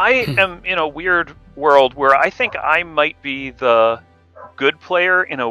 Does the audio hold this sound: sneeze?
no